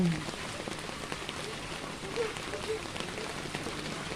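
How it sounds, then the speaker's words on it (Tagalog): Steady rain falling on a surface, a dense even patter close by, with faint voices underneath. "Umuulan."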